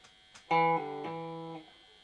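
A brief clean electric guitar figure of hammer-ons and pull-offs: one plucked note that steps quickly between pitches before ringing out and fading, played alone.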